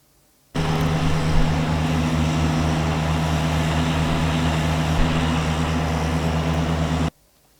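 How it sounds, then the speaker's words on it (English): Recorded lawnmower engine sample plays alone as a steady, droning hum with a strong tonal buzz, starting abruptly and cutting off cleanly after about six seconds, loud and unchanging. "for all the melodic instruments, I used one sample, and that's the lawnmower, and it sounds like this"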